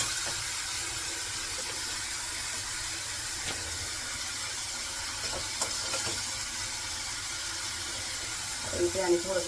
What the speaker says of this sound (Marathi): पाणी टाकते जरा